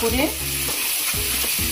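Masala sizzles steadily in hot oil in a pan, a continuous close hiss and crackle with low scraping or stirring pulses recurring throughout.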